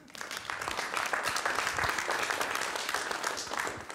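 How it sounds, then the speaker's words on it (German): An audience at a poetic reading claps steadily for a few seconds, a dense, even applause that swells and holds, fairly soft overall. "Das ist mal euer Applaus"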